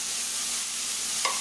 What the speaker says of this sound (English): So we're going to saute them until they're soft and the moisture is pretty much cooked out of them.